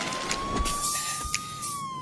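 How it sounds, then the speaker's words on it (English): A police car siren sounds in a 1995 Spider-Man radio drama, a steady wailing tone that rises slowly and then falls, heard over a noisy street-like background with small bumps and clatter. "Police cars."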